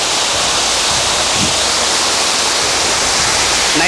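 Loud, steady roar of a forest stream pouring down a waterfall, broadband rushing water filling the whole stretch with no voices.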